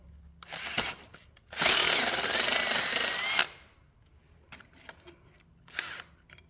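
A drill with a stepper bit cuts through metal on an F100 rear shock hanger in one loud, close burst of about two seconds, with a few small clicks and handling knocks before and after.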